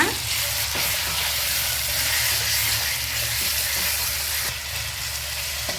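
Soaked chicken keema sizzles and fries in a hot pan while being mixed. A loud, continuous, close-up hiss with occasional faint scrapes of stirring runs throughout, and there is no talking.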